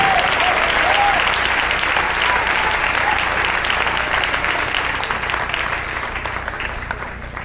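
A church congregation claps loudly together during a Spanish-language service, a full, close wash of applause that gradually thins and fades toward the end, with faint voices mixed into the crowd noise.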